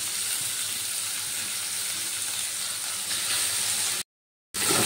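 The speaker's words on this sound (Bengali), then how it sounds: "এবার পেঁয়াজটা তেলের মধ্যে ভালো করে ভেজে নেব।" Chopped onion and a few pieces of garlic sizzle and fry steadily in hot oil with panch phoron, a loud, continuous crackling hiss that cuts out briefly near the end before resuming.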